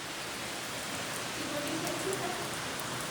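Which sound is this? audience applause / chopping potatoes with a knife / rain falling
rain falling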